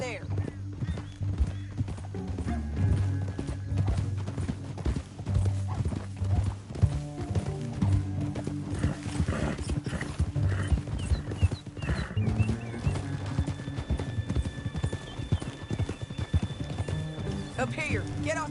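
Horse hooves in Red Dead Redemption 2 clip-clop steadily at a gallop over a constant musical score, with an occasional whinny, loud and continuous throughout.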